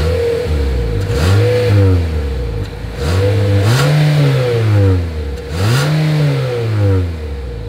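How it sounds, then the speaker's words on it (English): A 2024 Nissan Altima's exhaust revs hard three times, each rising roar falling back to a rumbling idle between bursts, loud and close. "here is that exhaust clip"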